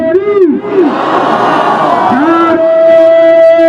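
Crowd at a religious conference shouts back a loud, unified response to a Naara-e-Takbeer slogan, a swelling roar of many voices lasting a couple of seconds between a leader's chanted calls.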